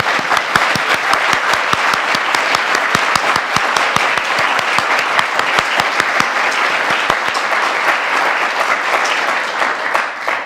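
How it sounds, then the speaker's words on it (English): A large audience applauds a guest of honor with steady, loud, sustained clapping that fills the whole stretch with dense overlapping claps and no voices above it. "I'd like you to join me in giving Tom a round of applause in honor of being the guest"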